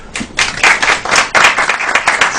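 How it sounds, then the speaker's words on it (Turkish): An audience bursts into applause, dense overlapping hand claps that swell and hold steadily for a couple of seconds, loud and close. "Alkışlasak güzel olabilir"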